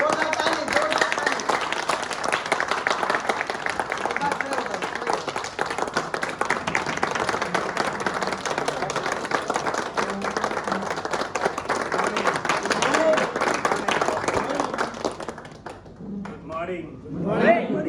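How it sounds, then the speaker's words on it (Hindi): An audience claps loudly and steadily for a company manager at a leadership meeting, a dense wash of many hands that goes on without a break and then thins into a few scattered claps near the end. "जोरदार ताली, जोरदार ताली।"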